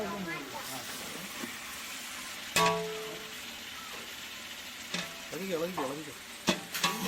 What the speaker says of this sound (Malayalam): അതും കൂടി നമ്മുടെ സവാളയിലേക്ക് ചേർത്ത് കൊടുത്ത് നമുക്ക് നന്നായിട്ട് വഴറ്റിയെടുക്കണം